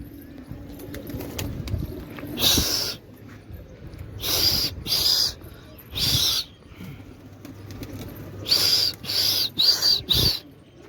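Pigeons flapping their wings as they take off, several loud close bursts of wing beats coming in clusters, with quieter rustling and background between them.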